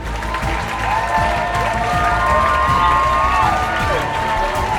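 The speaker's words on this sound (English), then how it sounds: "As the crowd cheered us on" Cheering crowd in a Minecraft game, a dense sustained wash of clapping and cheers with shouting voices throughout, loud and continuous.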